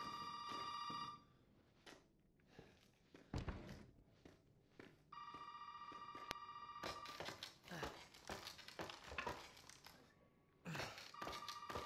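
Old-style telephone bell in Resident Evil 7 rings in loud repeated bursts, separated by thumps, rustles and other game noises, with no talk over it.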